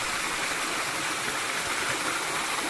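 Clear mountain stream water flowing through a forest, a loud, even, close rushing wash that holds steady throughout with no voices.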